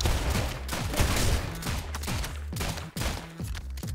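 Rapid gunfire from the game Rounds rattles off in dense, repeated bursts over about four seconds, loud and continuous with only a brief dip near the end, no talking over it.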